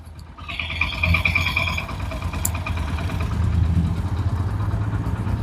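In a garage, a completely rebuilt car engine idles after being refitted and started, giving an even, rhythmic chugging with a thin higher whine early on, close and continuous.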